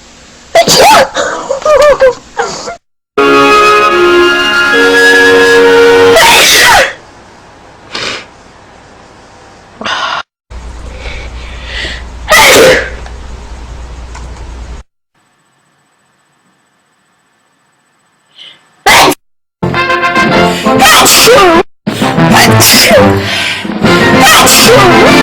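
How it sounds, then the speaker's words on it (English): A person sneezes several times in short bursts separated by pauses and silence, loud and close, with talk between the sneezes. "I have to sneeze"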